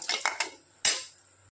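A spoon scrapes and clinks against a pan while lapsi, broken wheat, is stirred and roasted, giving a few quick close metallic knocks followed by one louder scrape, with no talking.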